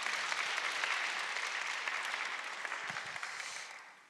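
Audience applause at a church evangelism camp ministers' gathering, a steady wash of many hands clapping that gradually fades toward the end, with no talk over it.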